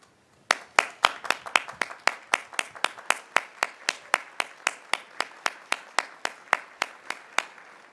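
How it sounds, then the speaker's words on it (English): Graduates applaud faculty and staff at a college commencement ceremony, a single clear pair of hands clapping in a steady, even rhythm of about twenty-five claps, fairly close and unaccompanied by talk. "thank them with your applause"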